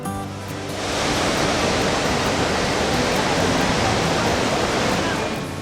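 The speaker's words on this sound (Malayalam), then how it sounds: "ഒന്ന് ദശാംശം ആറ് ഏഴ് മൈൽ വീതിയിൽ നീണ്ടു നിവർന്ന് ഒഴുകിപ്പരക്കുന്ന വെള്ളച്ചാട്ടമാണ് ഇഗ്വാഗു" Iguazu Falls in Brazil roars as a broad, steady wall of falling water, loud and continuous after a short rise, with a faint voice underneath.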